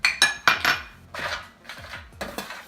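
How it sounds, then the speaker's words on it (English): Walnuts tumbling into a metal pan in a home kitchen, a quick series of close, rattling clatters and pattering knocks in irregular bursts, with no voices. "So I'm adding a lot more walnuts."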